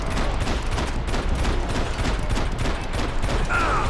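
Rapid gunfire rattles in a dense, continuous barrage from a third-person shooter game, Max Payne 3, loud and busy with layered shots and mechanical clatter.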